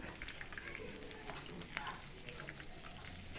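Fish fries in coconut oil over a bed of curry leaf stems, giving a steady, dense crackling sizzle with scattered pops throughout, close and even in level.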